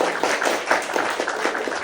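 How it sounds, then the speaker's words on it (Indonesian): An audience claps for a guest speaker at a farming podcast discussion, steady moderate applause of many hands, fairly close, with no talk over it. "kita tepuk tangan dulu untuk narasumber kita"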